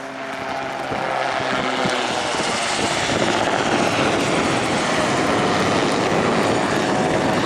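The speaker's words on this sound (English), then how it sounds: "This is the Rotorsport Calidus Autogyro." A Rotorsport Calidus autogyro flying at the Blackpool airshow, its propeller engine droning loud and steady as the sound builds and holds, with no speech over it.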